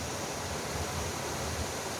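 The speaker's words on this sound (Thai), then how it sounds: "ฟังเสียงน้ำไหลนะครับ" Water flows in a stream beside a cabin in quiet countryside, a steady, broad rushing wash with no pauses, filling the scene evenly.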